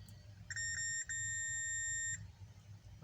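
A continuity beep while probing a discharging MOSFET on an HP laptop motherboard during a no-power repair: a clear high electronic tone, briefly broken after half a second, then held for about a second over low background hum.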